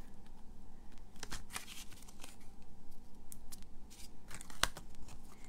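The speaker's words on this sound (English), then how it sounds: "I'm just going to cut some little strips and see if maybe that works" Scissors snip through little strips of paper during a papercraft card project, a run of sharp crisp cuts scattered across the stretch with one louder close snip near the end, no talking.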